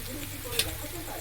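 Spice mix for stuffed pointed gourd fries in a pan, a steady close sizzle that holds evenly throughout, with one brief click midway.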